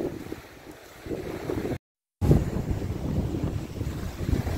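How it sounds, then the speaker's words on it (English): Steady wind buffeting a microphone outdoors on the Moray Coast Trail near Cullen, Scotland, a broad low rumble that briefly cuts out, then returns stronger. "It is very windy."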